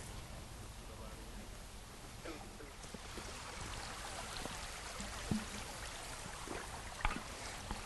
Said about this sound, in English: you can hear all this bubbling brook